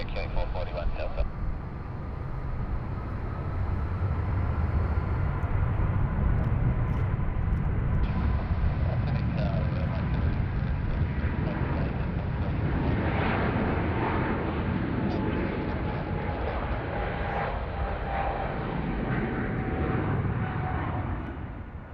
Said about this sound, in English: Alright, there she goes. She's heavy today.